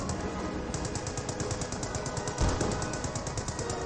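British Stewards in a Company of Heroes 2 Spearhead Mod battle fire a sustained, rapid rattle of gunfire with even, closely spaced shots and one heavier thump partway through, loud and nearly free of talk.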